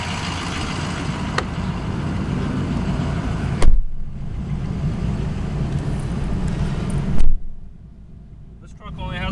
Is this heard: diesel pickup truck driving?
yes